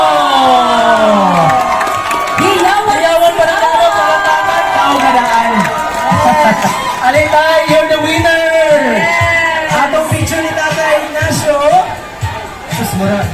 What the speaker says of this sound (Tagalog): Hiyawan pa na ako, palatakan, kaugadaan.